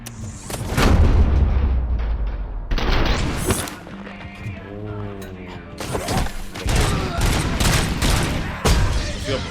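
Heavy gunfire in the video game RoboCop: Rogue City comes in loud, booming bursts with rapid volleys and deep impacts, broken by short pauses, and a voice is briefly heard between shots.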